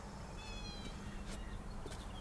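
A cat meows nearby outdoors during a rail restoration job, a few drawn-out meows in a row against steady background noise, with no one speaking over them.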